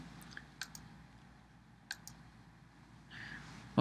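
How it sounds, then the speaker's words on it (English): A few soft clicks of buttons on a pH meter keypad as a calibration value is entered, isolated taps over a quiet hum, ending with a louder thump. "I'll type in the value of the calibration standard."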